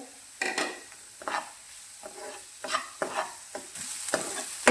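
Onion, garlic and ginger frying in mustard oil for a yogurt tadka, with bursts of spatula stirring and scraping against the pan at an uneven rhythm over a low sizzle, close and clear, no talking.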